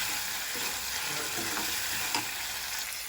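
Tomatoes with ginger-garlic paste fry in a pan, making a steady sizzling hiss at moderate volume, broken by a few soft stirring scrapes.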